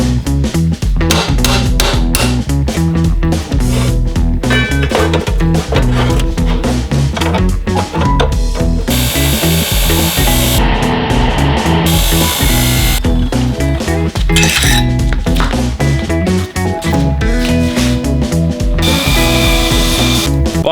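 Loud, continuous power tool cutting metal in a home welding workshop, a harsh whining grind that runs without letting up, with bright shrieking bursts partway through; no speech.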